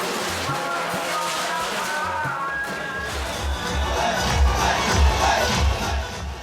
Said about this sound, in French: Une foule de personnes s'est rassemblée pour assister à la parade militaire.